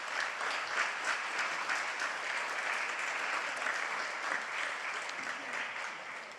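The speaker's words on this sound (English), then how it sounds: "please give Nicholas another round of applause" An audience applauds at a literary awards ceremony, a dense, even wash of clapping from a large crowd that holds steady for several seconds and tapers slightly at the end.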